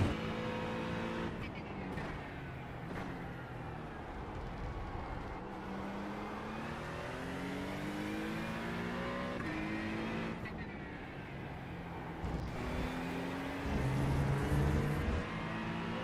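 An Acura GT3 race car engine in iRacing holds a continuous, fairly quiet drone, its pitch sweeping up through the gears and dropping under braking across laps of Brands Hatch.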